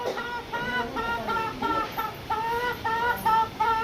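Domestic hens clucking inside a home, repeated rhythmic clucks close by and fairly loud, continuing steadily throughout without speech.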